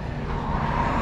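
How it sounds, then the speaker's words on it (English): A car passing by on a bridge, a continuous close rumble of engine and tyre noise filling the whole moment with no talk. "Yo, watch out, there's a car coming."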